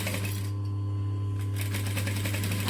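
A sewing machine runs steadily while stitching a diamond-shaped fabric pouch, a continuous close hum with a brief lull in the middle before the stitching picks up again.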